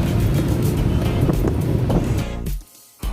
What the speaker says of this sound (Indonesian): ini saya sedang berada di motor alias di atas motor, yaitu dengan menggunakan Gojek